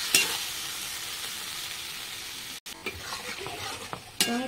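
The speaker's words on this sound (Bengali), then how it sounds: "সেই জন্য আমি আরও 2 মিনিট এখন এটা ভেজে নেব" Poppy seed paste fries and gets stirred in a pan, a steady close sizzle with scraping spatula strokes, a brief pause, then more scattered stirring and clinks.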